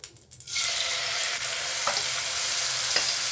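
Small chopped tomato dropped into ginger paste and five-spice frying in a pan, a brief soft clatter giving way to loud steady sizzling that holds for several seconds, with faint stirring scrapes and no talk.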